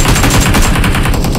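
Rapid automatic AKM rifle fire in the battle royale game PUBG, a loud, continuous burst of closely spaced shots lasting over a second with no talking.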